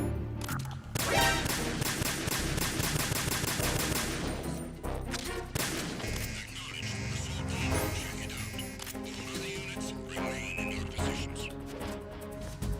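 Gunfire in the video game Metal Gear Solid 2 as magazines are emptied: loud, rapid automatic bursts crackling at first, then scattered shots, clatter and in-game effects, with no talking over it.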